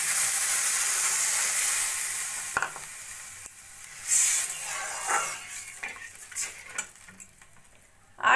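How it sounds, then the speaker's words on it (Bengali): Water poured into a pan of vegetables fried for momo soup hits with a loud, steady sizzle at first, then tapers off into softer, intermittent crackles and stirring clinks as the liquid settles. "এবার দিয়ে দেবো আমি পরিমাণ মতো জল"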